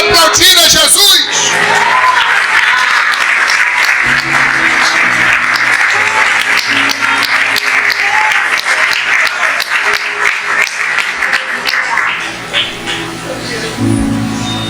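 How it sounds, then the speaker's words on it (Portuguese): A church congregation applauds during a sermon, a broad wash of clapping that swells and continues steadily, with a few shouts and whoops mixed in before it slowly thins out near the end. "Você pode aplaudir a Jesus?"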